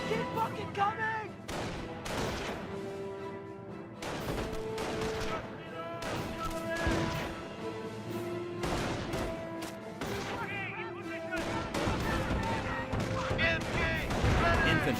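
Gunfire erupts in a D-Day landing battle in a video game, dense overlapping rifle and machine-gun bursts with crashing impacts, steady and loud throughout, while soldiers shout beneath the firing.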